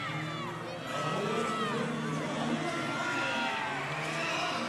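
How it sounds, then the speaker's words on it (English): Energised basketball crowd cheering at a Gold Coast NBL game between the Perth Wildcats and New Zealand Breakers, a dense, steady roar of many voices with whoops and shouts that swells after the first second and holds loud throughout. "The crowd here at the Gold Coast is energised."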